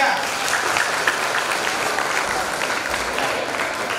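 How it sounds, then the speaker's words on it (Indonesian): An audience claps warmly and steadily at a religious talk on emulating Maryam, dense continuous applause filling the room with a faint murmur of voices underneath. "Beri tepuk tangan yang meriah."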